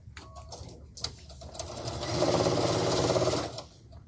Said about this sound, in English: so now we're going to sew these rows together really quick